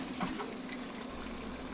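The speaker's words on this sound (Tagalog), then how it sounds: "Hinahalo ko lang mabuti at binubuhos ko na dito sa ating lutuan." Coconut milk mixed with Knorr ginataang gulay recipe mix and water pours steadily into a cooking pot, a soft continuous liquid splash and trickle heard close and alone.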